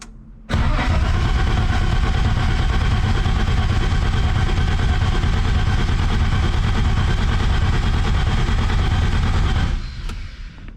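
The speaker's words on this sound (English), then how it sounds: "I'm just going to take off the coil lead and we'll just crank her over to make sure we get oil pressure." With the coil lead off, the engine of an LC GTR Torana cranks over without firing, a loud, steady rhythmic churning of the starter that runs for about ten seconds before cutting off.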